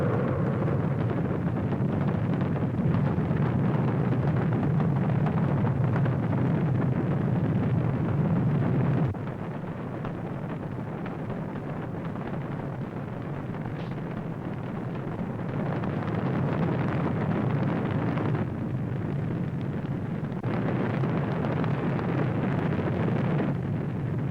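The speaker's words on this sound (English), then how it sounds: "We have main engine ignition" The main engines of Space Shuttle Columbia ignite at the launch of STS-3, a loud continuous roar with a wind-like rush that stays dense and unbroken and dips slightly in level partway through.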